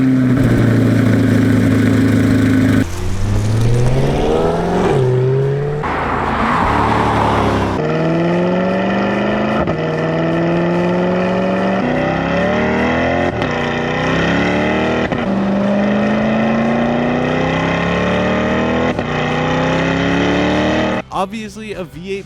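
A C8 Corvette's V8 engine runs steadily and revs in rising sweeps, loud and close, with several climbs in pitch and a brief burst at the end.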